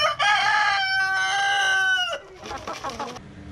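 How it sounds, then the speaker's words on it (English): A quail gives a loud, melodic, drawn-out call close by, followed by a softer, rougher trailing cry, with no talk. "I'm glad to have captured his bird call on camera."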